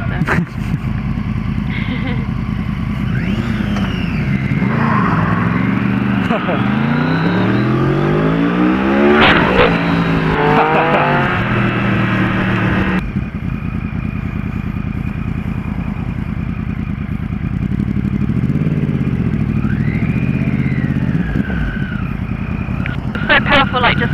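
A Triumph Street Triple R motorcycle rides and accelerates on the road, its engine rising through the gears in repeated loud revving sweeps with wind rush, heard close throughout for over twenty seconds.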